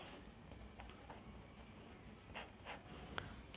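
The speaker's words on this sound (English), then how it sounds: "first we will write the given data" A pen scratches out a few short strokes on paper while writing down figures by hand, faint and close against steady background hiss, with no talking.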